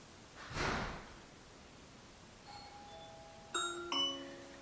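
A Ring doorbell chime plays from an Amazon Echo Show with a 15.6 inch display, a clear two-tone ding-dong near the end, preceded by a soft breathy whoosh and a faint tone in a quiet back bedroom.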